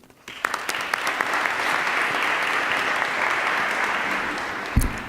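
An audience claps to welcome Dean Arterian to the podium at a law school talk, with sustained indoor applause that builds quickly, holds steady, then fades near the end with a thump.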